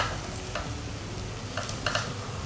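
A roti with egg fries in a pan, a steady soft sizzle with light scraping and stirring sounds close by.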